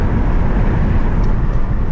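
A 2022 Ford Mustang Mach-E GT Performance accelerates at full throttle on a racetrack, heard as a loud, steady roar of wind and road noise with heavy low rumble and no engine note.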